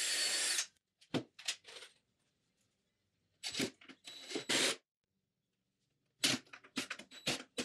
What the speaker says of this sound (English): I'll go ahead and pre-drill some holes and screw it together.